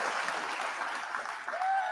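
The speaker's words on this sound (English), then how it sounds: "round of applause for Shawn" A small group claps for Shawn after a podcast interview at the Union Street studio, a soft, fairly faint patter of hands lasting a couple of seconds.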